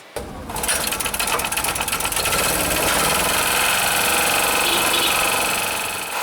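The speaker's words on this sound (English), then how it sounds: "What I'm using here now is industrial machine" An industrial machine in a workshop runs steadily at a loud, close, even mechanical whir with a rapid vibrating buzz, starting up abruptly and continuing without pause.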